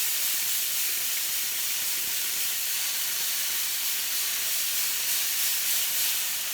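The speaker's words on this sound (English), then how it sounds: "we're going to put a bit more spray in it" Cooking oil spray hisses steadily into a slow cooker, a close, continuous aerosol spray lasting several seconds with no talking.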